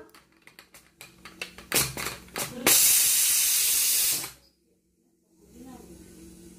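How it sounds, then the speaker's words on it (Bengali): A pressure cooker of meat being opened, with a few clicks and knocks followed by a loud, close burst of hissing steam lasting over a second before it cuts off to quiet. "এই যে খুললাম প্রেসার কুকার"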